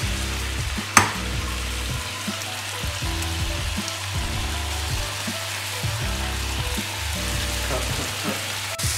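Egg frying in a pan alongside meat, a steady loud sizzle with a sharp clack near the start and soft stirring scrapes throughout.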